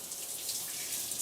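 Water from a brined turkey draining in a kitchen sink, a faint, steady hiss of running and trickling water with no pauses.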